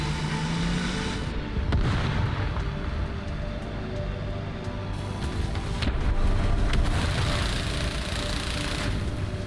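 Gunfire and explosions in the tank combat game War Thunder, a dense continuous rumble punctuated by sharp bursts, loud and sustained with no voices.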